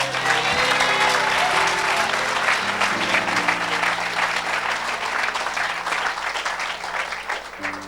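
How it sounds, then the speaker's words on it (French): An audience at a French-language evangelical gathering claps loudly and steadily for the whole stretch, a dense wash of applause with a voice faintly present beneath it. "Mais maintenant, acclame!"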